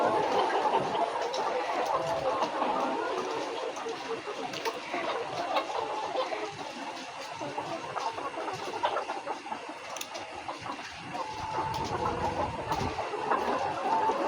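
A flock of hens clucks steadily on a layer poultry farm. The chorus of overlapping clucks is fairly close and continuous throughout.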